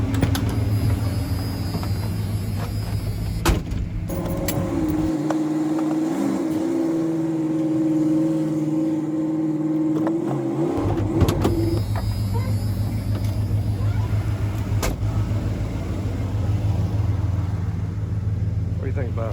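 A 1990 Ford F-250 with the 5.8L V8 idles steadily with a low rumbling hum, briefly drops out mid-clip while a higher whine sounds, then returns, close by with a person talking over it.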